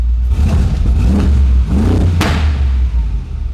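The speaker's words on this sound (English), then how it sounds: "I didn't just rev it off a cold start, don't worry." Mercedes G-Wagon engine, warmed up after flood repairs, revs loudly in repeated bursts with a deep rumbling exhaust and a sharp crackle near the end, close and sustained throughout.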